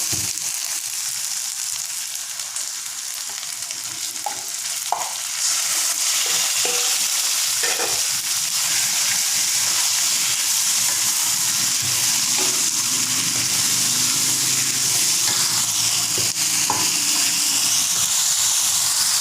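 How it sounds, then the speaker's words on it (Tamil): Chicken pieces sizzle and hiss steadily in a hot pan with crushed chilli for black pepper chicken, with occasional stirring clatters, the frying growing louder and denser after the first few seconds. "இப்போ நான் சிக்கனை போடுறேன்."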